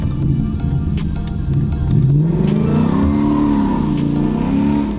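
A loud Ford Mustang V8 engine revs up and down, its exhaust note rising and falling in pitch, continuous and close.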